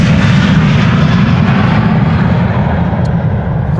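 An airliner taking off from the departure runway at Amsterdam Schiphol Airport, heard up close as a very loud, steady, low jet roar that holds throughout, no voices.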